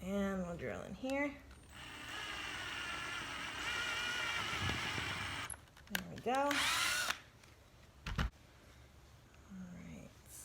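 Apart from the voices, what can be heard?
power drill driving screws into a wooden stacking box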